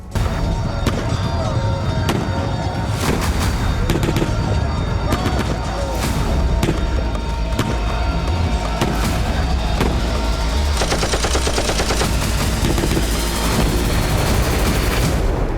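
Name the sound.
JDAM bomb explosions and gunfire in Kursk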